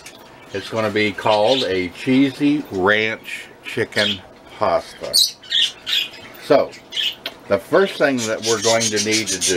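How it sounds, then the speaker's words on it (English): Pet birds squawk and chirp in a home kitchen, sharp and intermittent, mostly underneath a person talking close up throughout. "I don't know if you can hear our birds in the background"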